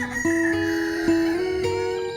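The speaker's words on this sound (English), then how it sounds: "the dawn chorus starts to greet another new day" A rooster crows loudly and close at dawn, a long drawn-out call with no other sounds around it.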